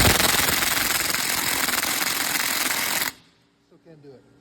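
A DeWalt 20V MAX cordless impact wrench hammers hard on a stubborn nut, rated for 800 foot-pounds of breakaway torque. A loud, dense, continuous rattling burst lasts about three seconds, then cuts off abruptly, leaving faint scattered sounds.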